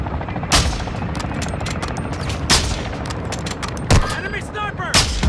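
Gunfire in Call of Duty, with several loud, sharp shots cracking at irregular intervals over a constant rumble of battle noise, close and punchy.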